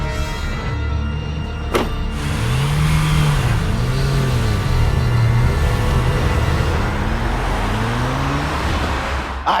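A car engine revs and accelerates steadily, rising in pitch as the vehicle pulls away, loud and continuous throughout with a brief sharp click early on.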